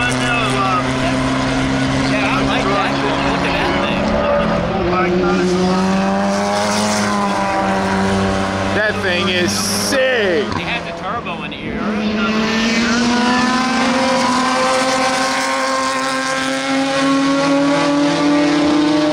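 Race car at Road Atlanta during TransAm racing, engine roaring loudly and continuously as it accelerates through the gears, with pitch sweeps rising and falling; a person speaks briefly over the noise.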